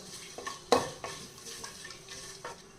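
Bay leaves and shahjeera frying in a pan on a low flame, a faint sizzle broken by a few clinks and scrapes of stirring.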